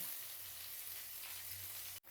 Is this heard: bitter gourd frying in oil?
yes